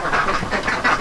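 A large duck quacks in a short, loud burst of rapid repeated calls, close by and alone for about a second.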